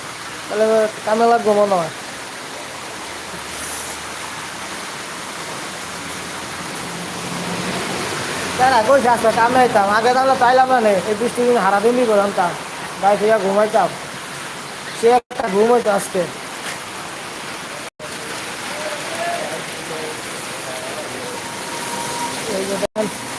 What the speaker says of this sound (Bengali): হালকা বাতাস টিপটিপ বৃষ্টি